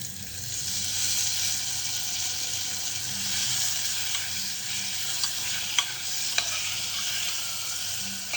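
Onion, potato and tomato sautéing in a pan with turmeric, asafoetida and garlic, a constant hissing sizzle with a few light spoon taps and stirs, close and even, no talk.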